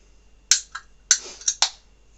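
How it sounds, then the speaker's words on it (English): A can of beer cracks open close to the microphone, a few sharp clicks and a short hiss of escaping gas coming as separate bursts in a quiet room. "So there we go, we've cracked it open."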